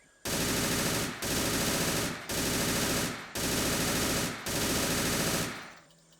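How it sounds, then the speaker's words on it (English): Video game machine gun fire in a jungle combat operation: five long, loud sustained bursts, each about a second, separated by brief pauses, close and dominating. "I'm just shooting at where I think I see tracers"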